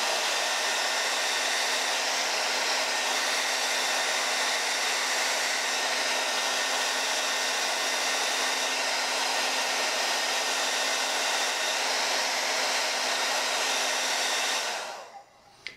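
A hair dryer used with a round brush to style a mustache blows with a steady, loud whoosh and hum for about fifteen seconds, then cuts off abruptly near the end.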